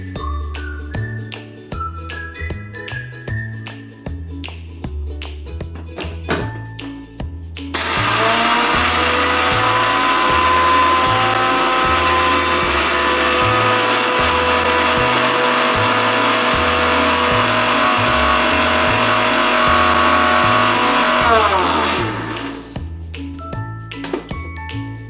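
A mixer grinder roars at full tilt for about fourteen seconds, loud and steady, as it grinds curry leaves with a little salt into powder, framed by light background music before and after.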